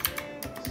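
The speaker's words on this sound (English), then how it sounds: "For the keyboard, I've got an RK61 with blue switches." Quick clicky keystrokes on an RK61 keyboard with blue switches, several sharp taps in an uneven rhythm, close and fairly quiet.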